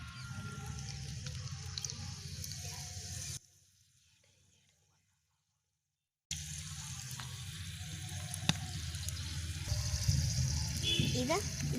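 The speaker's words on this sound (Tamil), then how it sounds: "இப்போ இந்த எண்ணெய் கொதிச்சுட்டு இப்போ நம்ம இதை போட்டுக்கலாம்" Puri dough frying in hot oil, a steady crackling sizzle with some clinks and handling noises, broken by a few seconds of near silence partway through; no talk over it.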